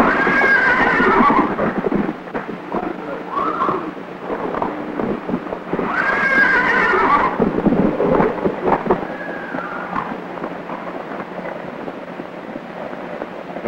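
A horse whinnies loudly twice, with hooves thudding and shuffling underneath and a low rumbling in the background.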